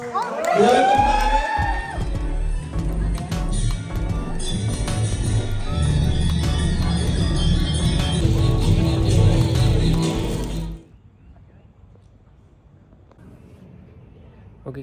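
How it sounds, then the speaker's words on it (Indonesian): An audience at a badminton competition final in Oxford whoops, cheers and claps loudly for about ten seconds, with shouts and voices in the crowd, then the noise drops away abruptly. "Boleh tepuk tangannya?"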